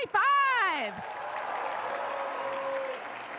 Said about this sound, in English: We now welcome your applause for the MA and BA MA class of 2025